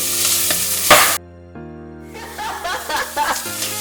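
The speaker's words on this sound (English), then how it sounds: "Guys, I'm making popcorn." Corn frying and popping in a pan with chilies, heard as loud sizzling and stirring that cuts out abruptly, then returns with scattered pops and crackles.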